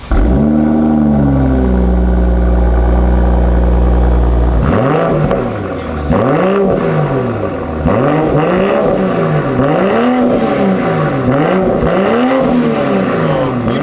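B58 engine fitted with an AWE exhaust and AFE air intake, first a loud steady drone, then a series of repeated rising-and-falling revs, each swelling and dropping in a rhythmic pattern, close and powerful.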